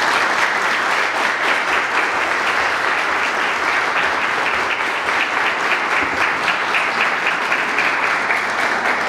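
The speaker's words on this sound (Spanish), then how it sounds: "Un gran aplauso." Guests at a church wedding ceremony break into sustained applause, a loud even roar of many hands clapping continuously from start to finish.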